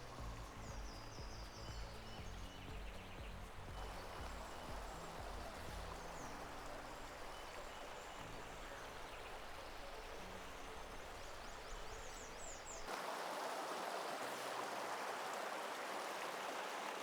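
A small mountain stream in the Caldera de Taburiente on La Palma flows in a steady, faint rushing wash, with soft low rumbles early on and a brighter hiss of water near the end.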